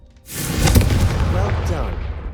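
A Confringo fire spell blast in Hogwarts Legacy bursts loudly with a sharp onset, then its roar sustains and slowly fades, with a voice faintly underneath.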